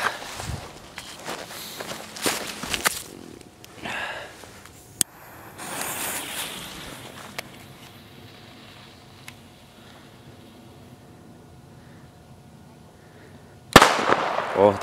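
Katana Superböller firecrackers from a discount-store set, set off outdoors: footsteps shuffle for a while, a couple of sharp small cracks sound in between, and then one loud, close blast goes off near the end.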